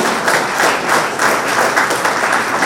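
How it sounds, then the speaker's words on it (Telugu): An audience in a hall applauds loudly and steadily, a dense wash of many hands clapping at once throughout. "అందరికీ పేరు పేరున ఒక్కసారి గట్టిగా చప్పట్లు కొట్టి హాలు మారుమోనే సరిపోయి"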